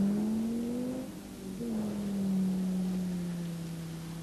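A 1991 Volvo 850 GLT passes at speed, its engine note climbing, briefly dipping, then holding a steady high drone against faint road and wind noise.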